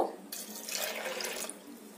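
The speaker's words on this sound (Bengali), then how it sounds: "এতে দিয়ে দেব জল। জলটা অল্প করেই দেব।" Water pours into a pressure cooker of washed lentils in a short, close splashing stream lasting about a second before tapering off.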